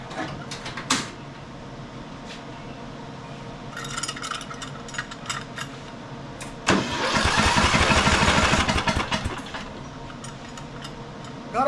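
A 23-year-old Murray 42 inch riding mower engine cranks with a few rough attempts, then catches and roars loudly for a couple of seconds before settling back to a quieter idle.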